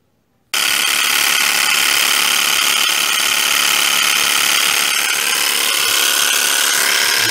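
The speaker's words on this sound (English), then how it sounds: "I'm inflating it now." Pressurized air inflating a leaking Volkswagen Polo tire repaired with a tyre jack, starting abruptly as a loud, continuous hiss that holds steady without pause.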